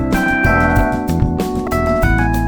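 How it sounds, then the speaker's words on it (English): Loud music with a heavily reverberant, washed-out sound, sustained tones ringing and blending over a steady rhythmic pulse. "Now the reverb is very high."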